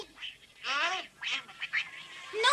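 Several short nasal quacks in quick succession from a cartoon duckling in The Smurfs, a cartoonish voice imitating a small duck, close and fairly loud.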